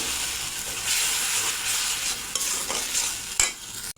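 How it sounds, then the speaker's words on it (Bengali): Spice paste, mixed with water beforehand, hits a hot pan for a mung dal banana-blossom kofta curry and sizzles steadily while being stirred, with close scraping strokes and a couple of sharper knocks near the end. "এবার গুলে রাখা মশলাটা দিয়ে দেব।"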